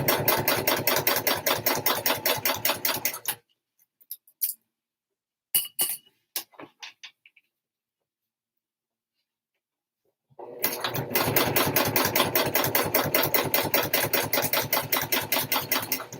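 A sewing machine topstitches a leather handbag strap with a fast, steady mechanical chatter, loud and close, running for a few seconds, pausing through a long stretch of near silence with a few clicks, then starting up again.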